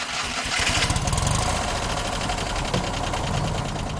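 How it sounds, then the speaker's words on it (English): A Fiat Nuova 500 engine cranks and catches, settling into a rapid, buzzing idle with a rhythmic putter, loud and close, with no voices over it. "The Cinquecento begins to vibrate, and the engine kicks in with its special purr."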